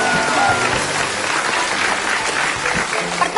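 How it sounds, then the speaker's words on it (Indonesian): Television talk-show studio audience bursting into applause, dense clapping that fills the room loudly and continuously, with a voice briefly audible beneath it. "Kasih tepuk tangan dulu buat Mbak Kandar."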